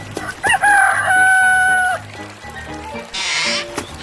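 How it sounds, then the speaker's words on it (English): An animated chicken in a 3D animal game clucks and crows, a loud close rooster call followed by shorter clucks and other short sound effects. "Chicken."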